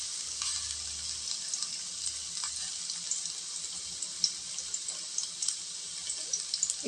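Vegetables with curry leaves for a broad bean dish sauté in a pan, giving a steady, fairly quiet hiss of sizzling with a few small clicks and no voices.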